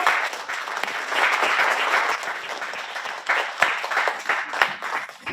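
Audience at a Korean artists' fair-finance vision declaration ceremony applauds in a full, steady burst of many hands, fairly loud and continuous, with a few sharper individual claps standing out near the end.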